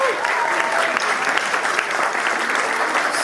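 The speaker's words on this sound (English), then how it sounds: "How about a big round of applause for the beautiful couple?" Applause for an engaged couple at their engagement party, a dense, loud crowd clapping that runs steadily throughout, with some voices mixed in.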